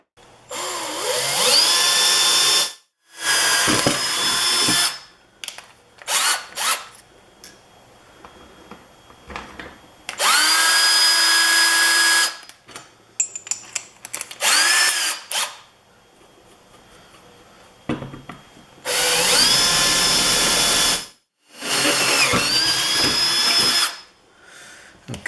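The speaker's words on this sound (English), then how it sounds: "we're going to drill a small pilot hole first" A power drill whines in several bursts of a few seconds each, drilling a small pilot hole in aluminum for a boat swim deck, with short pauses and faint clicks between runs, close and loud.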